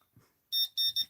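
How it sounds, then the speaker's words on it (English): A timer alarm goes off in a crafting room during fabric cluster work, three loud bursts of high electronic beeping, close and alone after a faint rustle. "My timer went off."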